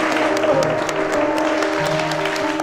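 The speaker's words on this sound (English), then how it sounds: "we'll give her a round of applause" Studio audience applauding an artist, steady dense clapping at moderate distance with a little crowd noise underneath, sustained throughout.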